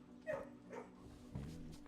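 A dog in the Blue Prince video game gives a few short, soft barks and yips, quiet and close, spaced across under two seconds.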